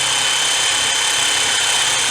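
A power tool spins a nut off a stripped-down Toyota Previa, a steady mechanical whir that holds at one level without a break for about two seconds.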